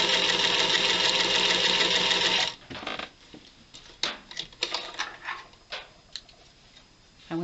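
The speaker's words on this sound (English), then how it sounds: "flying geese into the sewing machine and sew right down to that X and sew right through that cross" A sewing machine runs hard and continuously for a couple of seconds while stitching a flying geese quilt block, then stops, followed by scattered clicks and handling noises of fabric and thread.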